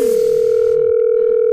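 A steady, continuous telephone tone heard while placing a call on a radio broadcast, loud and unbroken throughout, with no voices.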